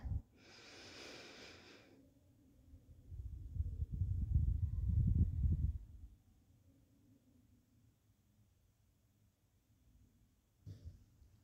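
One long, deep breath drawn in through the nose during a yoga relaxation practice. The airy inhale is soft and close, followed by a quieter rumbling stretch and then near silence.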